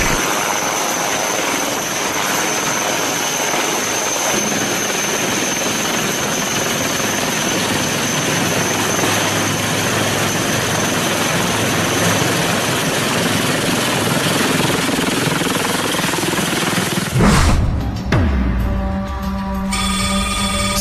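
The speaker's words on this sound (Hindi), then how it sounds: "लिमिटेड ने जो ध्रुव मार्क 3 बनाया है, उसमें एक एडवांस्ड शक्ति इंजन है।" A HAL Dhruv Mark 3 army helicopter with a Shakti engine and carbon-fibre body runs near the Siachen Glacier, its loud, steady rotor and turbine roar sustained throughout before shifting abruptly near the end.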